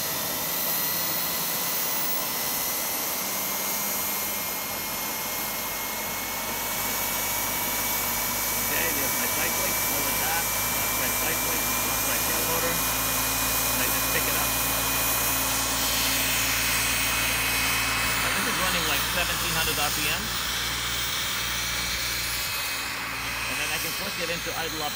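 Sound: turbine-powered RC model helicopter throttling up and taking off

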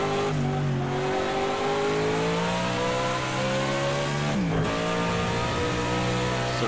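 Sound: Audi V8 Quattro race car engine, Project CARS 2 video game

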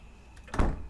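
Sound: door closing in video game Night Blight

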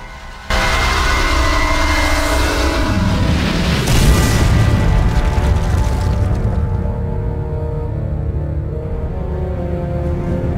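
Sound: crystal destroyed in video game Legend of Spyro: Dawn of the Dragon

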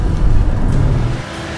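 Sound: 4WD vehicle engine revving while climbing a sand dune

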